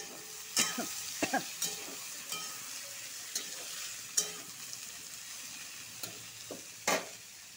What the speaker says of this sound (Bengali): এখন তিতা কেরালা ঢেলে দিব।